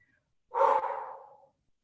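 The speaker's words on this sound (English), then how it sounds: "I'm such a heavy breather right now because my lungs are so compacted." A single heavy, breathy exhale from a person during a total body fitness workout. It is one close, audible breath lasting about a second.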